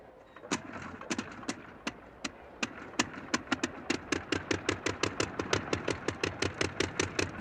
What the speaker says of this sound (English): The crowd was silent, watching the engine rev up.